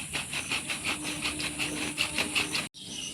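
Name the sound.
shaking a plastic water bottle of milk to make butter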